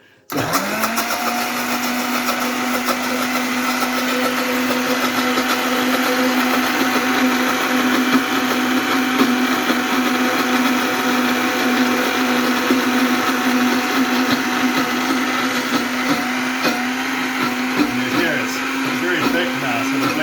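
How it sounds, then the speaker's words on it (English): An electric blender whirring steadily as it blends aioli while oil is poured in, starting abruptly and holding a loud, close motor drone with a constant pitch for about twenty seconds. "you keep blending it while adding some more oil"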